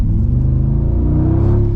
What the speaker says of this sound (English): that engine roar